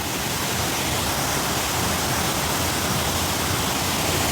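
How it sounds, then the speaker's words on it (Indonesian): A waterfall at a forest site in Banyuwangi, a steady, dense broadband rush of falling water, close and loud, unbroken throughout with no voices. "Ada air terjun juga, guys."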